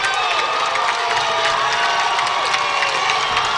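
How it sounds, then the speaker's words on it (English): A high school football crowd in a stadium roars continuously, with mingled boos, cheers and scattered applause from opposing sidelines, loud and sustained throughout. "a chorus of boos from the Napa faithful is complemented by applause over here on the Nevada Union sidelines where we are seated"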